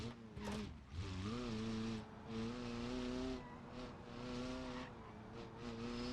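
A torquey truck in BeamNG Drive with a rural drive shaft, its tires spinning and squealing as the engine revs and wavers in pitch, loud and continuous with short breaks between pushes.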